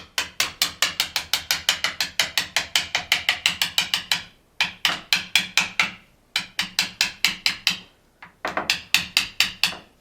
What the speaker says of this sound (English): a little chisel action.